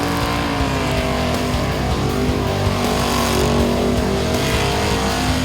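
A Holden Ute at full throttle roars loudly and steadily, its engine revving hard with a constant harmonic drone as the tyres are smashed in a burnout, close and continuous throughout.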